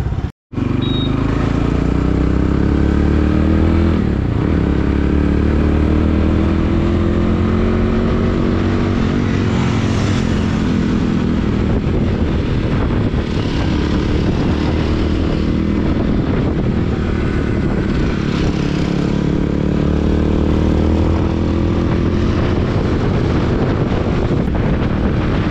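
A motorcycle ride recorded on a GoPro in Simara under clear weather, with a loud, continuous engine drone blended with heavy wind buffeting the microphone for the whole stretch.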